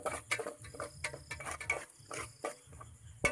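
Onions are sautéed in a pan until golden, with a spoon clinking and scraping against the pan in quick, irregular strokes over a low frying hiss.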